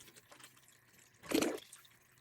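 Distilled water pouring into a pot for turkey brine, a short splashing burst that swells briefly and then fades against a quiet background.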